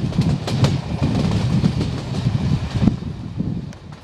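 A passenger train carrying pilgrims runs along the rails, with a loud, close rumble and a rhythmic clickety-clack of wheels over rail joints that never stops.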